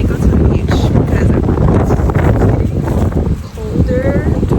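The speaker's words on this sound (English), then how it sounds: "It's already pretty windy today." Wind gusts outdoors near the beach, buffeting the microphone in rough, continuous rumbling bursts while a person talks over it.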